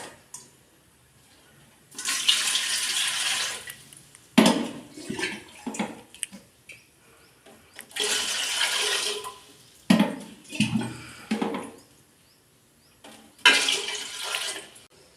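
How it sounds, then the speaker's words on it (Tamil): Water is poured from a small vessel into a cooking pot for pepper pongal in several separate splashing pours, each a few seconds long, with quiet gaps and soft clinks of the vessel between them. "ஏழு சொம்பு தண்ணி விட்டாச்சு."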